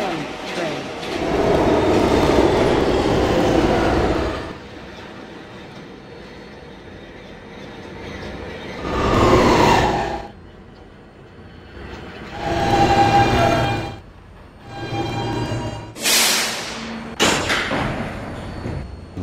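An R160B subway car on the B line rolls along the tracks with a loud rumbling run, then quieter stretches broken by several swelling bursts of wheel and rail noise, a high squeal near the end, and a voice briefly heard.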